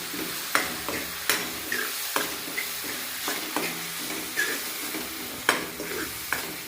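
Salt, Kashmiri red chilli and turmeric stirred into onion and tomato in a pan for a green pea sev usal, sharp spatula scrapes repeating every second or so over a quiet sizzle, no talking.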